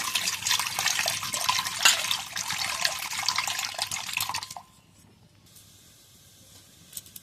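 Water pours into a wok on a stove in a steady, hissing splash for about four and a half seconds, then stops, leaving only faint background noise. Close by, with no talking.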